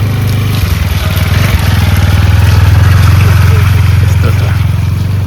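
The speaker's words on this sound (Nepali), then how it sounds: "बाइक आएको छ" A motorcycle on a rough rural road near maize fields at Changunarayan, Nepal, in light drizzle, its engine a steady loud low drone that swells slightly toward the middle, close by.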